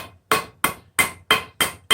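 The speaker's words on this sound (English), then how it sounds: "just keep hammering this, and it'll keep snugging up that joint." A hammer drives a wooden wedge into the handle of a forging hammer with six sharp, evenly spaced strikes, each loud and close with a short ringing decay.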